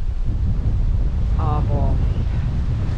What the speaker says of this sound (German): weil es hier so windig ist.